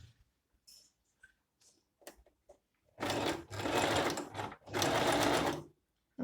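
Singer M3305 sewing machine stitching a zigzag on fabric: after a few quiet clicks and handling noises, three loud, close bursts of rapid mechanical stitching run for about a second each with short pauses between.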